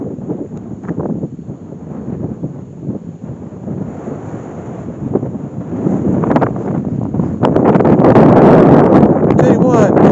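Wind gusts outdoors near an old stone bridge over Grouse Creek, buffeting the microphone with rough low rumbles that build louder toward the end, while someone talks over it.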